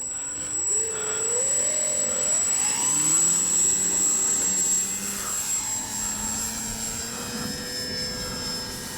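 A Dynam Tiger Moth RC model biplane flies overhead under electric motor power, a high whining buzz that rises and falls in pitch as it passes nearby, steady and continuous.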